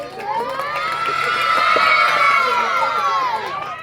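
A crowd at a prize-giving event breaks into loud, sustained cheering and shouting for the winner, Jawad Khan, lasting throughout with many overlapping voices close by.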